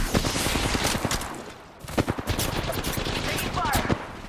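Rapid gunfire rattles in the video game Apex Legends, dense bursts of automatic shots close and loud, briefly dropping off midway before resuming in quick volleys.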